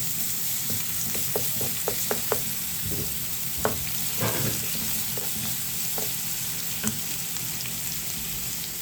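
Two large crushed garlic cloves fry in a pan of oil, a steady close sizzle broken by a series of quick clicks and stirring taps.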